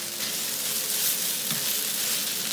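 Fresh flat rice noodles for char kuay teow frying in a very hot wok, a loud continuous sizzle with brief scraping stir strokes, no talking.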